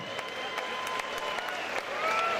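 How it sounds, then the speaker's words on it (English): At a combat-sports fight night, a crowd applauds both boxers after a bout, sustained clapping with a few sharper claps cutting through and a tonal ring of other sound or voices mixed underneath. "let's hear it, everyone. Big round of applause."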